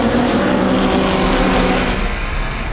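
Race cars at the start of the 2021 Sydney 300 roar together in a loud, dense, continuous engine drone that holds strongly, then eases slightly toward the end.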